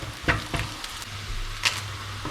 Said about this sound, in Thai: ตอนนี้ผมก็ มาเจียวกระเทียมครับ สำหรับโรยหน้าเขานะครับ เจียวกระเทียมกับเจียวหอมแดงครับ